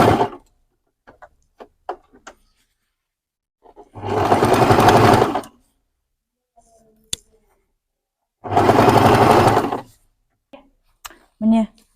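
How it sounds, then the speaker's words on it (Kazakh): A sewing machine stitches fabric for a bear costume jumpsuit, running in two loud, sustained bursts of about two seconds each, with quiet handling clicks and brief pauses in between. "Міне тігіп болдық."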